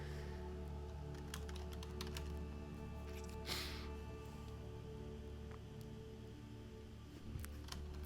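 Someone types on a computer keyboard during an online tarot-card poker session. Quiet, scattered key clicks come at an uneven pace, close but soft, over a faint steady background hum.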